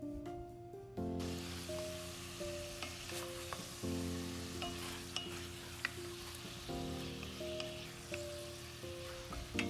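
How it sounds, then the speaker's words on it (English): Bite-sized pieces of beef braising steak sizzle steadily as they brown in butter and oil in a Dutch oven, a close continuous crackle with occasional stirring, no voices. "I started by heating up my Dutch oven pan with a little bit of butter and oil, and then I added in some beef braising steak"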